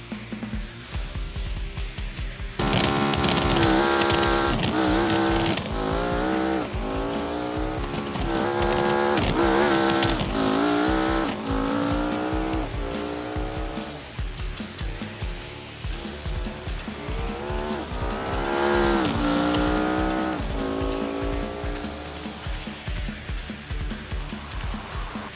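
The reworked, retuned stretch Autobella Piccolina drag car, which runs 7.610 at 192.8 mph: a loud, close engine roars through repeated rising revs, each surge climbing in pitch before dropping back, over about twenty-five seconds.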